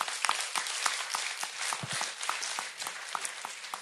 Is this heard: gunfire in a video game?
no